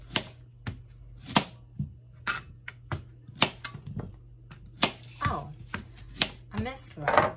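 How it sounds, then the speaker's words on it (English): A knife cutting hard sweet potatoes into one-inch cubes on a board, sharp irregular chops and clacks in quick, uneven succession, close and crisp over a low steady hum. "we're gonna cut the ends off, and then we're gonna cut them into little 1-inch cubes"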